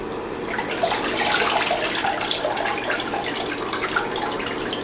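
Tap water runs steadily into a bathroom sink as makeup is rinsed off during a nighttime face-washing routine, a close, continuous splashing flow with no talking.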